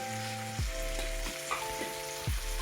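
Vegetables and roasted gram flour sauté in a pan with a steady, close sizzle and occasional stirring scrapes, a low electronic hum running underneath.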